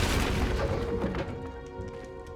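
A Bombarda blasting spell detonates in Hogwarts Legacy, a loud booming crash right at the start that decays into a rumbling, crackling tail over a couple of seconds.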